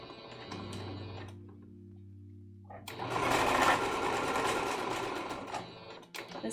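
Sewing machine running in steady bursts as it stitches the top of a small fabric tube closed for a cosplay costume, a low motor hum first, then a louder, denser stitching whir after a short pause, close by with no talk.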